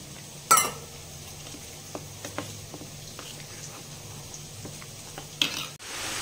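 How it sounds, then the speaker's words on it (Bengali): Chicken fries with onion in a pan under a low, steady sizzle, with a spatula stirring and tapping against the pan in scattered light knocks and two louder clanks near the start and end. "চিকেনটাকে আমি পেঁয়াজের সঙ্গে ভালো করে একটু ভেজে নিলাম"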